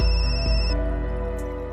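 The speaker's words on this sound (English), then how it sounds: "the smartphone on my desk began to ring" A smartphone on a desk rings in the video game Parascientific Escape, giving a bright tonal ringtone melody that plays alone and clearly for under two seconds.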